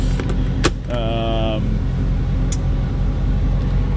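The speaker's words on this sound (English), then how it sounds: "Windows both work. Auto going down." Power windows on a 2000 Turbo Corvette whir down on auto, a brief motor hum after a click, over a steady idling engine rumble inside the car.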